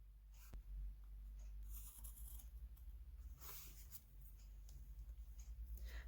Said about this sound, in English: grab your ruler and a pencil and draw a horizontal line through the center